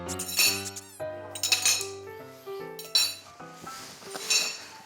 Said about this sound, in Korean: 접시에 딱 세팅을 딱해놓는